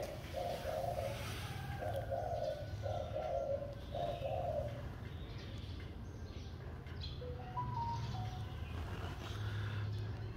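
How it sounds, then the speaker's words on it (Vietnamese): A turtle dove in a bonsai garden in Dan Phuong, Hanoi, gives four steady, clear coos in a row. Softer bird chirps follow over a low background rumble. "chim cu nó hot nhiều thế nhỉ?"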